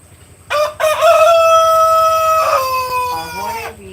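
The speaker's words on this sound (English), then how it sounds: "Crowing." A rooster crows close by and loud, one long drawn-out cock-a-doodle-doo that rises, holds and trails off at the end, with no talking over it.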